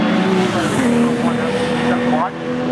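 Race car at Oulton Park in a World Sportscar Masters event, a loud engine drone near by with pitch changing as it passes, dipping briefly toward the end, under faint commentary.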